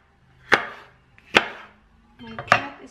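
Three crisp knife strokes cut through ginger on a board, spaced about a second apart, close and sharp against a quiet kitchen background.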